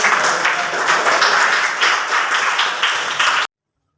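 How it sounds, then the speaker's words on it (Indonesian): Students in a classroom clap for their classmates, a loud, close burst of many hands in slightly pulsing rhythm that runs steadily then cuts off abruptly. "Tepuk tangan untuk teman kalian."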